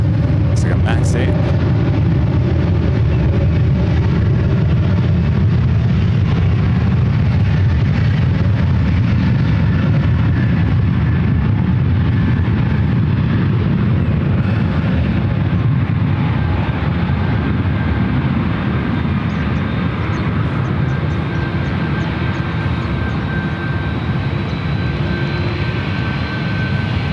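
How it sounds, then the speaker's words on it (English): A Delta Airbus A321neo and an Aeromexico Boeing 737 MAX 8 take off side by side at San Francisco airport, a loud, sustained jet engine roar filling the scene, with a voice talking over it early on. "Little drag race on the ones. The Delta A321 Neo and an Aero Mexico. It's like a Max 8."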